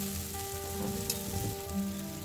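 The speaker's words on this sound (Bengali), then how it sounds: "আবার এটাকে নেড়ে নিতে হবে।" Chopped pointed gourd stirred in a pan, giving a low, steady sizzle with soft scraping and light crackles throughout, no talking.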